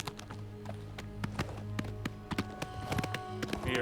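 Steady clip-clop of horse hooves on a hard surface in the game Oblivion Remastered, a quick rhythmic trotting pattern over a low game soundscape, no one speaking.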